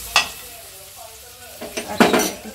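Vegetable maggi fries in a pan as a utensil clinks and scrapes against it, a few sharp metallic knocks over a low sizzle, nearby and with no talking.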